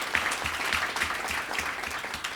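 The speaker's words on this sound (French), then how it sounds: "On va l'applaudir très, très fort." An audience at a French entrepreneurs' pitch event applauds steadily, a dense wash of clapping hands throughout, moderately distant with no voices standing out.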